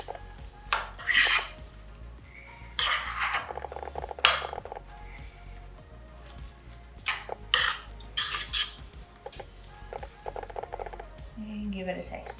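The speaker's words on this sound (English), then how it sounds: "Stir it up." Seasoning stirred into a dish of pico de gallo: a few rattling clinks and scrapes of a spoon against a bowl, coming in short bursts with quiet gaps between them.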